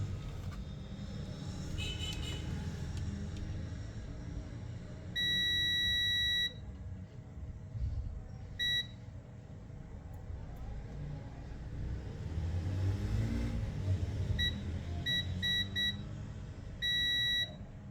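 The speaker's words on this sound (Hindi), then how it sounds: "लगातार हमें बीपिंग देता रहेगा।" Multimeter continuity beeper probing a Vivo Y51 phone's charging circuit: steady tonal beeps, some held for about a second and others short chirps in quick bursts, over a low background rumble.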